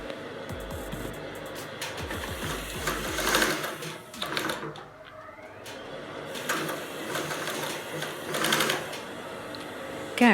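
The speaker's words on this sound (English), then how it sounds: "put this leather, under that pressure foot, and just stitch" A Two Lion TL-335A cylinder arm sewing machine stitches leather under its pressure foot at full speed, a rapid mechanical chattering that runs in bursts and pauses, close and clear, with a voice speaking in between.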